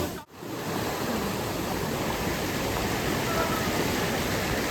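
Waterfall in Uttarakhand pouring with a steady, loud, close roar of rushing water that fills the whole clip after a brief dip at the very start.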